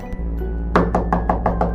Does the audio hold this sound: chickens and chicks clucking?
no